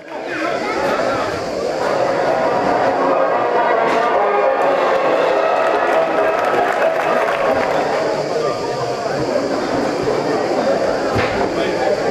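A large crowd applauds and cheers steadily and loudly throughout, a dense wash of clapping with no pauses, at a Camargue cocarde cow race in Remoulins, France.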